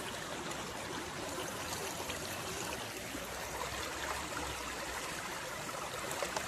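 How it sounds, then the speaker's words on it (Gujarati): A small stream flows steadily, with a soft continuous rush and trickle and no voices. "ઝરણું છે થોડુંક સારું મસ્તીનું."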